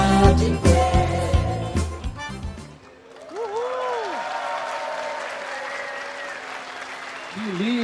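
Audience applause after a children's ballet performance, a broad steady clatter following the end of the music, with a voice speaking over the clapping.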